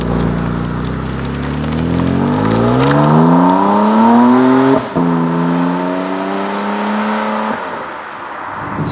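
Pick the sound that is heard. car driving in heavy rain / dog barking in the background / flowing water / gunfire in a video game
car driving in heavy rain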